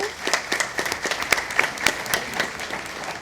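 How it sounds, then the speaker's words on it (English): Audience applause at a school board meeting, a dense patter of many hands clapping steadily for a few seconds with some sharper individual claps standing out, fairly close in a meeting room. "Round of applause to you."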